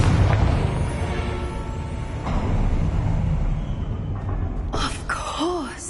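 A Confringo blasting spell in Hogwarts Legacy bursts with a loud, booming explosion that rolls on as a sustained rumble, followed by a brief spoken voice near the end.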